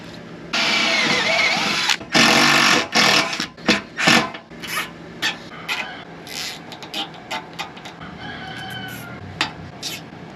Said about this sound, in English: I use lubricant to make sure the drilling goes smoother.